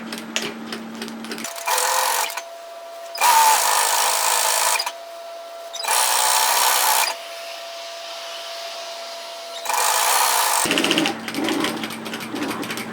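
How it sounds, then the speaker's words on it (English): A sewing machine stitches a dress seam with raw edges and right sides together, running in several bursts of steady whirring separated by short pauses as it back tacks, close and clear with no speech. "I'm going to start sewing from that point. So I have raw edges together, right sides together, and I'm going to back tack."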